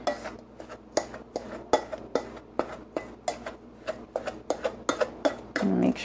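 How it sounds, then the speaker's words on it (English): Butter stirred into crumbly keto pie crust mix in a bowl, a utensil scraping and clacking in quick irregular strokes, close and distinct with no talk. "You're just gonna stir in the butter until it has like a nice"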